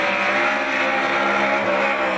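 Ford Mustang drift car at a race track, its engine holding a loud, steady high-revving drone close by for the whole stretch, with a faint edge of tyre noise and no voices.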